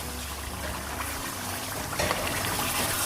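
A cup of water poured into simmering kofta masala in a pan, giving a continuous close hiss and splash that grows slightly louder and brighter partway through.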